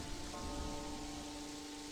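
Soft, steady rain hiss in video game music blends with quiet sustained musical tones and church bells, a low, even wash of patter without any distinct drops standing out.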